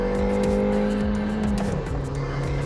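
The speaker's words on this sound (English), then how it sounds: "when you accelerate through the gears, downshift once or twice, and put your foot down" A Suzuki Baleno accelerates hard nearby, engine revs climbing through a gear change before pulling strongly again, loud and continuous.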